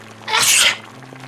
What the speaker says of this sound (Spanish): Incluso la duquesa estornudaba de vez en cuando